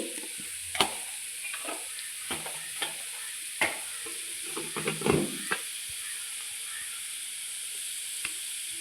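Onions and green chillies sauté in a pan, with turmeric and other spice powders going in, for a dry prawn roast. A steady sizzle and hiss runs throughout, and a series of sharp spoon clinks and scrapes comes as the mixture is stirred. No one speaks.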